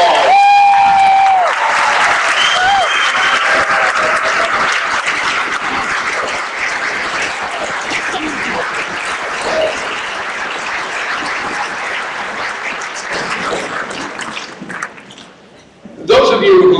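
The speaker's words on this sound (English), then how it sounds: "How about another round of applause?" Audience at a patriotic community concert applauding after an encore, a long, loud, dense wash of clapping with some cheering that swells and then fades near the end, with a voice briefly at the start.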